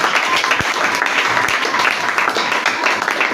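Church congregation breaks into steady, dense applause during a French-language sermon, loud and close with sharp individual claps popping out of the wash.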